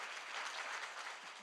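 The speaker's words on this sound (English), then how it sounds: "can we just give them a round of applause" Steady applause fills the room as the audience claps for a standing charity team at a Serve-a-thon party in 2025, a dense, even wash of hands held at constant loudness throughout.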